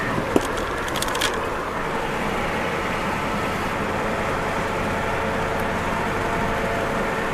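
A 1993 Ford Ranger XLT Supercab 2WD pickup cruises along a road with the window open, its steady engine drone and wind rush filling the cab after a shift into fifth gear, with a few faint clicks early on.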